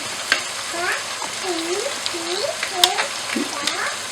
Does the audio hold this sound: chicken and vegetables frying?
yes